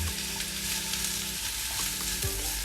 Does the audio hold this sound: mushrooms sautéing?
yes